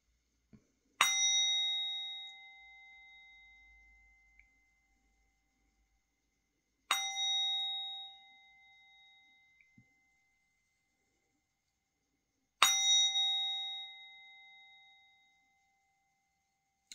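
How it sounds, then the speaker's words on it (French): A small Tibetan singing bowl is struck three times at slow, even intervals, each clear metallic ring sounding alone and decaying gently into silence before the next strike. "Les 3 coups de petit bol tibétain."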